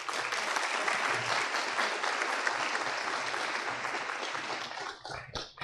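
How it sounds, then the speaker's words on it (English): A room applauds at a county Board of Education meeting held at a high school, sustained even clapping for several seconds that thins out toward the end. "I'd like to give him a round of applause"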